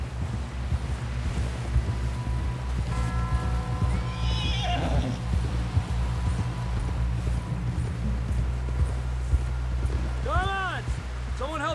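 A horse whinnies twice in the video game Red Dead Redemption 2, against wind and a low rumble, with a murmur of other sounds throughout.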